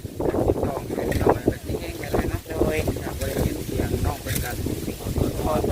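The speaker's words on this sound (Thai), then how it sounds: "มื้นี้อากาศลมเนาะ" Strong wind blows steadily outdoors, a loud, continuous rushing roar over the microphone with voices mixed in underneath.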